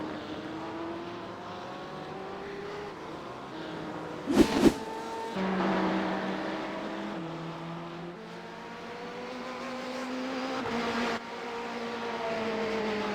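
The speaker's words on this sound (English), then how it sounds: "I think he's really pushing that car to its limits." GTE race car engine in a sim racing game at Watkins Glen, a steady high-revving drone with rising and falling gear pitches, a brief sharp burst near the middle, heard alone without talk.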